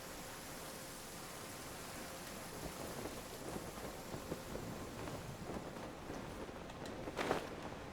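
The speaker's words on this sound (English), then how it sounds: "Why is it raining now, I wonder?" Steady rain hisses in Genshin Impact with low rumbles of thunder beneath, and a brief louder crackle near the end, continuous and fairly close.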